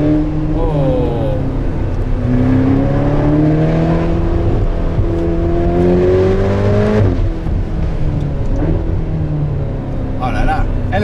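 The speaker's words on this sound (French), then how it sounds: "Elle pète au passage de vitesse alors que la 812 pète au rétrogradage en race." Ferrari Portofino V8 revving hard under acceleration, loud and close, with rising engine tones that drop and climb again through several gear shifts and crackling exhaust pops at each change.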